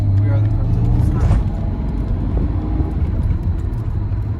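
Toyota Supra engine on a test drive in Mexico, a steady low rumble and road drone from inside the moving car, continuous and fairly loud, with people talking over it.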